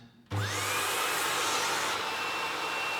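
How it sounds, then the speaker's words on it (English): A vacuum cleaner fitted with a wide nozzle, used to clean hanging curtains, switches on abruptly and settles into a loud, steady whine and airflow hiss that runs without pause. "So we're going to use our vacuum cleaner."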